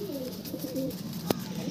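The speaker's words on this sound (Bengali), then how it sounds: "বন্ধু দেখো, ফেস অফ বিউটি দেখো পায়রাটা" A Dhille pigeon gives a soft, low rolling coo, a couple of quiet throaty phrases close by, followed by a single sharp click-like tap.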